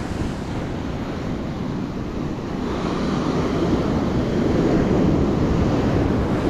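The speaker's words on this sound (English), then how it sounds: "But the waves coming up, they can use the wave, the little bit of water, to fight their way back into the surf." Rough ocean surf rolls up a sloping beach in a loud, continuous wash, heavy wind buffeting the microphone and the roar swelling toward the end.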